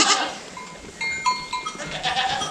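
Goats and newborn kids bleating in a kidding pen, several thin, wavering calls overlapping close by against rustling barn noise, with no talk.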